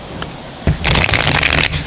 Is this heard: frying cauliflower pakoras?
no